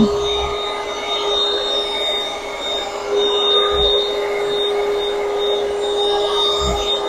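A wireless handheld vacuum cleaner runs steadily with a constant motor whine and airflow hiss, fairly close and continuous throughout, with a couple of faint low bumps.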